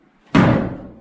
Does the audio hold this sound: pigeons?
no